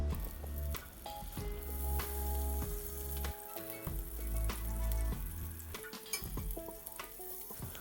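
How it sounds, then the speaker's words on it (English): Butter crackles and sizzles steadily in a hot cast iron pan before pancake batter goes in, with occasional metallic clinks and scrapes of a utensil over the frying. "once your butter is melted and sizzling"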